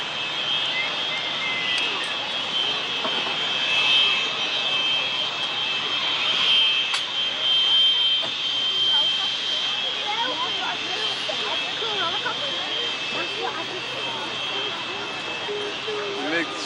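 A MiG-21 jet passes at an airshow, its engine roar a steady high-pitched whine and rumble that swells and fades slightly while a commentator talks over it on a public address system.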